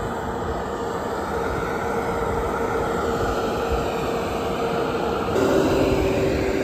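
A semi truck engine idles with a loud, steady droning rumble close by. The tone shifts to a slightly different steady pitch near the end as the engine drops.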